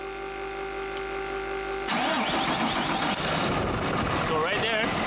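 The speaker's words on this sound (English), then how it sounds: "as you can hear, the truck is now running" A Ford F650 truck engine, after a no-crank no-start fault, cranks and catches abruptly after a steady hum, then rumbles into a loud running idle with a person talking over it.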